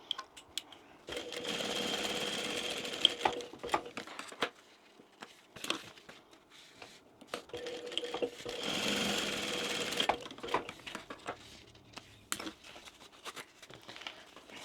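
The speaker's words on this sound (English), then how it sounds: "I'm basically folding it in half, and I'm just going to sew down both sides." A sewing machine stitches down the sides of a folded fabric pocket in two fast, rattling runs, close and fairly quiet, separated by a short pause with small handling taps.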